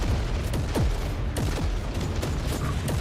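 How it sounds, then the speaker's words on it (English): In Warhammer 40K: Inquisitor - Martyr, a grenade goes off amid heavy combat: booming blasts with falling whistles and dense rumbling noise, loud and sustained. "I mistakenly threw that grenade, and I'm glad I did."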